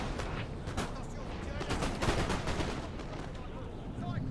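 Musket volleys in Napoleon: Total War battle, a dense rolling crackle of gunfire with several sharper cracks, fairly distant and sustained, with a louder burst midway.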